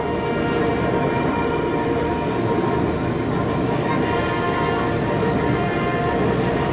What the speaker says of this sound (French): Voilà donc le retour au sol du Spit.